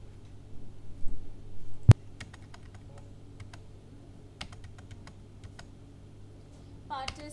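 Typing on a computer keyboard during accounting data entry, with sparse, quiet key taps and clicks, one sharp click, and a low steady hum underneath, alone without talk.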